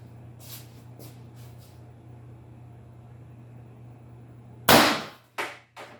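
A single sharp shot from a Mercury Rise Intrabuster less-lethal launcher with an 8-inch barrel cracks loudly and close after a quiet hum, followed by a couple of brief, fainter clatters.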